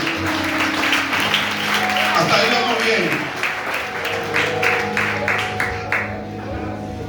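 Church congregation applauding during a Spanish-language sermon, a broad wash of clapping that rises after a call to praise the Lord, with the pastor's voice speaking over it in the middle of the clip.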